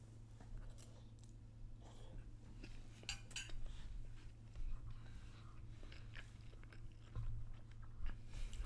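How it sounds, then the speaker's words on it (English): Food being chewed close to the mic, with irregular crunchy bites and mouth noises over a steady low hum, no talking. "Forgive me if you can hear my chewing."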